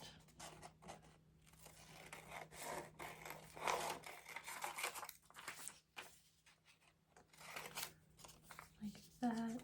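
Scissors snip paper strips in half for a book page craft, producing quiet intermittent cutting and rustling sounds up close, with soft talking heard between them.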